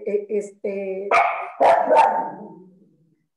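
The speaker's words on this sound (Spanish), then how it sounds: "Perdón por mi perro." A pet dog gives several close, sharp barks in quick succession, with a voice talking over and around them before the sound fades out.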